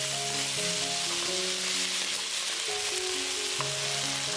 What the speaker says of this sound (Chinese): 出香味后放入藕丁